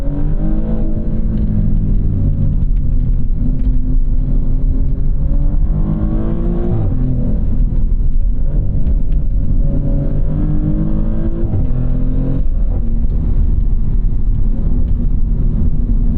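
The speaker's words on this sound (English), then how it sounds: "See, those upshifts were quick." A 2024 Maserati GranTurismo Trofeo engine drives steadily and loudly from inside the cabin, its pitch rising and then dropping sharply with quick upshifts several times over a constant low rumble.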